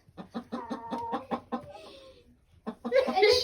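A hen in a hen house clucks in a quick, close series, then gives a short, squeaky, mouse-like sneeze, followed by a burst of rustling.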